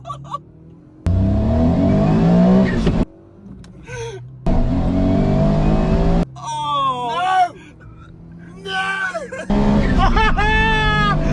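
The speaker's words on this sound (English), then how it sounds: "Autozam versus a VW Lupo. Rear wheel drive versus front wheel drive." Autozam AZ-1 with its 660cc turbo three-cylinder faces a VW Lupo in a drag race at Santa Pod, with loud engine roars and revs in bursts, alternating with excited crowd chatter and talk.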